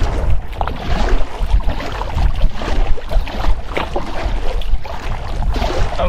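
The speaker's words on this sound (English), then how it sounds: "I'm going to paddle up the shoreline." A canoe is paddled along a windy shoreline, with uneven splashes and water swirling against the hull at close range under rumbling wind noise.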